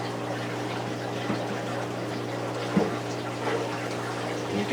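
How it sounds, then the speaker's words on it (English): Continuous hum and gurgle of a saltwater aquarium return pump running, with steady churning water and an occasional faint knock, close and unchanging. "The first thing that I'll do is plug back in my return pump."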